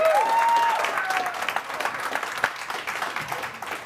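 A television studio audience applauds for a hypnotist's subject, a dense, steady burst of clapping that holds through the whole stretch, with a brief high whistle-like tone near the start.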